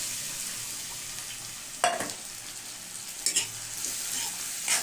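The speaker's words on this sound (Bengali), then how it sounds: "ডালটা দিয়ে ভালো করে নেড়ে নেবো।" Lentils (dal) sizzle in a hot pan with cooked onion, a constant hiss under occasional louder scraping strokes as the mixture is stirred.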